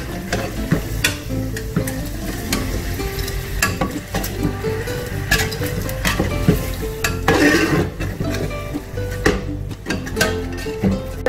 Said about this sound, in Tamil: ஒரு மிக்ஸ் மிக்ஸ் பண்ணிவிட்டு ஒரு தடவை நல்லா கிண்டிட்டு